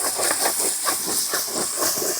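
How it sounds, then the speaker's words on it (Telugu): Ginger-garlic paste frying in a pan at a night campsite, a dense continuous hissing sizzle pulsing slightly, loud and close, with no voices. "కచ్చా పచ్చగా దంచుకున్న అల్లం వెల్లుల్లి పేస్ట్ వేసుకుందాం."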